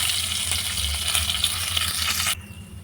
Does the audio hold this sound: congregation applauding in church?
no